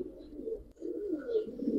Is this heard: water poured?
no